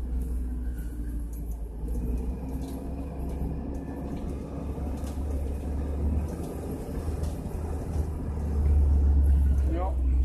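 An amphibious ATV, the Coot, driving over ice, giving a steady low engine rumble that swells louder near the end, with voices talking faintly over it.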